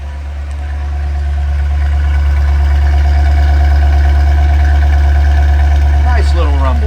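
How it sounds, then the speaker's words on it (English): A 1963 Ford Galaxie 500XL with a single exhaust idles steadily at close range, a low, even rumble holding for several seconds with a brief rising rev near the end. "I think you'll be surprised at how good it sounds for a single exhaust unit."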